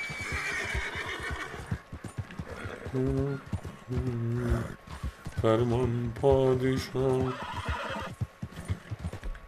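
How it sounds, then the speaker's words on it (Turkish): A horse in Red Dead Redemption 2 whinnies several times in loud, rising-and-falling neighs, with hoof clip-clops and someone talking over and between the calls. "Kişneyip durma."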